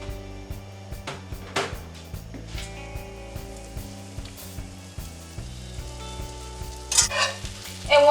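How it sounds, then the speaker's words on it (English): Two tablespoons of butter sizzle softly as it melts in a pan on a stove over medium heat, with light stirring and scraping noises near the end and faint music underneath. "you're going to add your 2 tablespoons of butter. Let that melt just a little bit."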